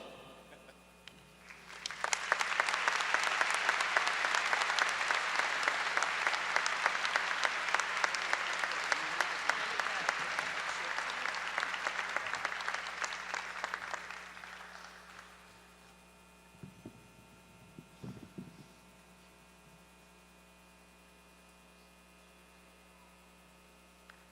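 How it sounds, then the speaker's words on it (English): Audience applause fills a law school commencement ceremony, a dense sustained wash of clapping from a large crowd that runs about twelve seconds before fading out, over a steady low mains hum that stays in the quiet afterward. "You can applaud twice."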